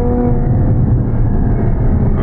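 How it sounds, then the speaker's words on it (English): A supercar's engine and exhaust rumble loudly and steadily, a deep continuous low roar up close, with no talking over it. "This car makes amazing sounds."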